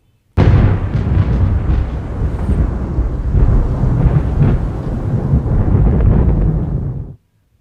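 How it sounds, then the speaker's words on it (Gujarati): Powerful thunderstorm with sustained heavy rumbling thunder and rain showers, loud and continuous for about seven seconds before cutting off abruptly, with no voices. "શક્તિશાળી વાવાઝોડું"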